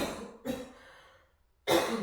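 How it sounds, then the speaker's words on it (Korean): A woman with a lingering post-COVID cough coughs twice, loud and close, with a short quiet gap between the two bursts during a gymnastics association exercise class. "코로나 후에 장기침이 좀 많아서 중간중간 기침할 수 있어요"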